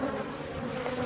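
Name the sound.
angry bees buzzing around an open hive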